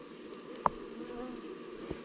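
Tiny jataí stingless bees hum in a soft, steady buzz close up at their nest, with a brief sharper buzz as one passes near, and quiet voices in the background.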